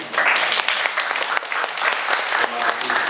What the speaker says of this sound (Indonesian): Mungkin kita tepuk tangan buat semua dulu.